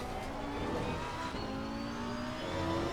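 A race car engine in Assetto Corsa Competizione roars at full throttle out of a corner at Monza, a loud, continuous drone whose pitch climbs steadily as it accelerates.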